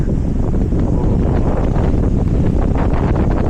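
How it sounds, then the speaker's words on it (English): Strong gusty wind buffeting the microphone during a gravel bike ride on the Remutaka Rail Trail, a loud continuous roar that fills the whole moment without any talk. "Oh, that wind's bad today."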